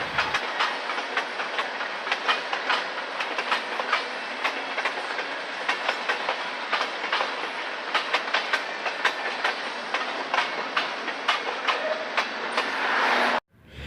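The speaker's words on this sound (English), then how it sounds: "An SD42 leads this small local train out of the siding and up to the Norfolk Southern main line." A small Norfolk Southern local train led by an SD42 locomotive pulls out of a siding toward the main line, its wheels beating a steady loud clickety-clack over rail joints with hiss beneath for nearly fourteen seconds before cutting off.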